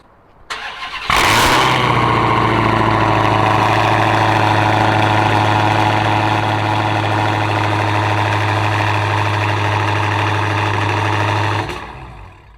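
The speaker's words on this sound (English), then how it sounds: "I'll give you guys that nice cold start." A Dodge Hellcat with a check engine light cold starts: a starter whirs briefly, then a loud roaring flare settles into a deep, steady, rumbling idle for about ten seconds before the engine cuts off.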